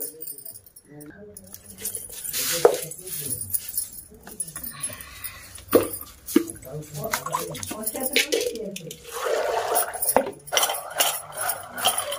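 Indian jujube (ber) fruits are washed by hand in water for a street food recipe, with splashing, sloshing and clinks of a container, while a person talks over the irregular bursts of water.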